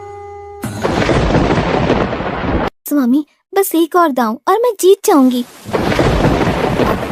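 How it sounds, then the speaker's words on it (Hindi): Rumbling thunder rolls with heavy rain in a sudden out-of-season storm, broad and loud, breaking off while someone speaks, then returning just as strongly. "ये बिना मौसम की गरजती हुई बारिश हमें क्या संकेत देती है?"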